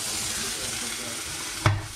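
Steady frying sizzle of steak in a hot covered pan, a soft hiss under faint background, ending with a sudden loud pop as the meat bursts.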